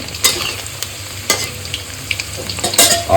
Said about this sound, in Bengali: প্রথমে আলুটা ভেজে নেবো হালকা হালকা লালচে লালচে করে